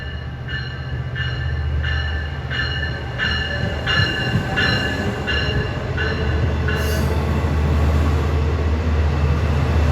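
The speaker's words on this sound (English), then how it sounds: "we get to see 651 departing west to Jamaica" A Long Island Rail Road train, number 651, departs westbound toward Jamaica from a station on the triple-track line. It rumbles loudly and close by, with rhythmic wheel clicks over rail joints and a brief squeal.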